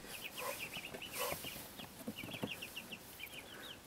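Backyard chickens clucking close by in a short run of soft, repeated calls, with some outdoor background noise around them.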